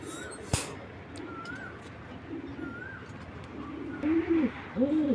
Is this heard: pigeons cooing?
yes